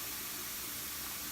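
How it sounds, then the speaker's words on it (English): A pressure canner loaded with fresh peaches vents a steady, even hiss of steam on a stove at high heat, constant and unbroken from start to finish, fairly quiet and close. "shoot a steady stream of steam, you let it do that for 10 minutes"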